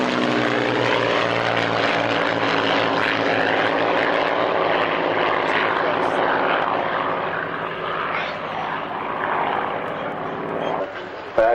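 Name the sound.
Spitfire and Harrier aircraft flying past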